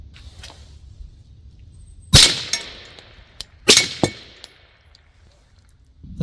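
A suppressed Beretta 92 pistol fires at a steel target outdoors, with two sharp, loud cracks followed by ringing metallic pings from the steel, plus a few fainter ticks and clanks between.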